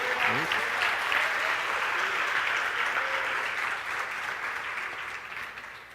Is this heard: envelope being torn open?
no